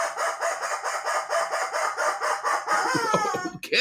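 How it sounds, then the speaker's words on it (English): A rubber chicken squeak toy lets out a long, loud, rapidly pulsing squawk with a bright rasping tone, close up, ending in a few strained, gasping squeals. "the rubber chicken says"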